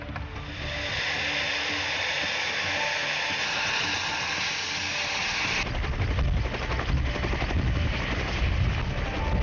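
A steady, loud whirring roar of a rescue helicopter at a beach fills the whole stretch, shifting to a rougher, throbbing rotor chop partway through.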